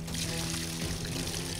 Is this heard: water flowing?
yes